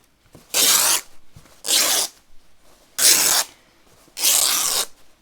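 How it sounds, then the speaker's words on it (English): Fabric is torn into strips by hand. There are four bursts of loud, raspy ripping, each roughly half a second long, spaced by short quiet gaps and heard close up. "you can just tear the strips"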